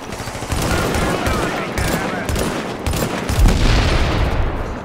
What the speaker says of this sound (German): Hauptsache wir schießen den Boss noch an.